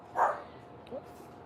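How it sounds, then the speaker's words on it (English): Pet dogs bark off in the background, one short bark followed by a fainter yip, distant and quiet indoors. "You can hear my dogs in the background,"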